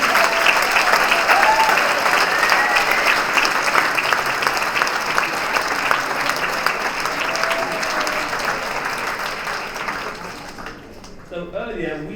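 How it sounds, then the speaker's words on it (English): A crowd at the Legal Aid Lawyer of the Year Awards 2022 gives sustained, loud applause for the award sponsors, a thick even roar of clapping that tapers off near the end as a voice comes in. "please, round of applause for these generous"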